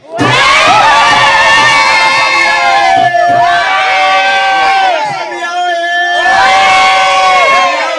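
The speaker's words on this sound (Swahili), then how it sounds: "Piga kelele kwa mama yake." A large crowd at an outdoor political rally shouts and cheers loudly in sustained, overlapping waves of voices, close and dense, with brief dips between bursts.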